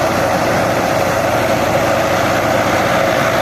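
A New Holland Fiat 640 tractor engine runs at steady load while powering a thresher at harvest time, a loud, constant droning rumble close by with no talk.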